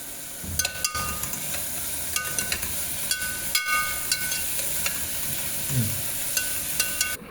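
Chopped chillies and tomato are stirred together in a hot pan for a fish curry, producing a low sizzle with repeated utensil clicks and scrapes against the pan at an uneven rhythm, close by.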